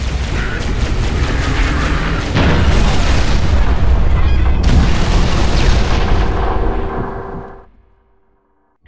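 Artillery barrage in the Halo: Reach video game, loud continuous booming rumble with layered blasts and crackle, holding heavy for several seconds before fading out to near silence.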